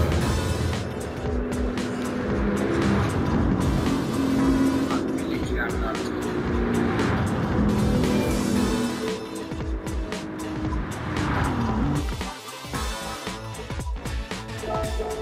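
Nissan Skyline R32 race car in Gran Turismo 7 lapping a circuit, its engine droning steadily and shifting pitch with tire noise throughout, a brief dip near the end, with a voice talking over it.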